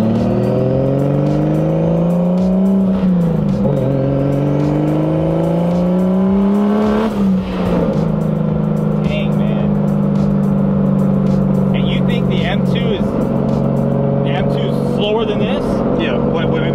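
A big-turbo BMW E36 engine drones loudly from inside the cabin, revving up and shifting, with turbo whooshes and hissing flutters between gears.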